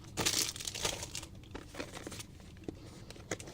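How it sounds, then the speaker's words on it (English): Cellophane wrapper being crinkled and peeled off a vintage Pokemon Fossil theme card deck, a run of close, quiet crackling crinkles in irregular bursts with no voices. "got the cellophane off it."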